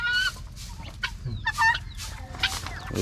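Chickens cluck and squawk repeatedly in short bursts, fairly close, with a few higher calls scattered over a steady low background noise.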